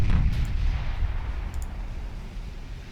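Naval guns of warships fire in the video game Ultimate Admiral Dreadnoughts, a heavy booming report at the start that rolls off into a long low rumble, with no speech.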